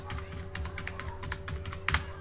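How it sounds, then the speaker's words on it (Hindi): Quick, light clicking of number keys typed on a computer keyboard, a steady patter of taps with one slightly louder keystroke near the end, recorded close and fairly quiet. "यहाँ पे मैं कुछ नंबर्स टाइप कर लेता हूँ।"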